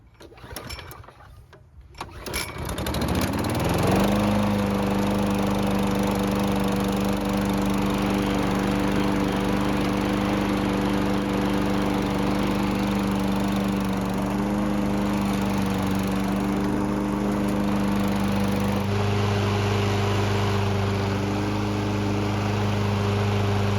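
Self-propelled lawn mower, its weak drive just repaired, starting after a few seconds of handling noise and then running steadily with a loud, close, even drone; the engine tone shifts slightly near the end.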